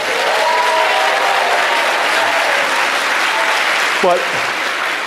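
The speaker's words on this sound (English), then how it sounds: "Now, you guys can applaud that, definitely." Loud, continuous applause from a town hall audience for a Democratic primary candidate, a thick roar of clapping lasting throughout, with a brief cheer near the end.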